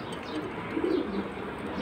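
Pigeons coo at a busy pigeon market selling aluminium, silver, hammer, khaki, safchila and pankhi breeds, a steady low murmur of overlapping calls from several birds throughout, with a brief chirp and nearby crowd bustle.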